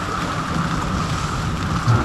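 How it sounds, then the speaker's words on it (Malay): Heavy rain pours steadily in a rural fishing village, a dense, continuous hiss close by with a deeper rumble beneath and no voices. "Terpaksa berteduh hujan. Hujan. Hujan lebat."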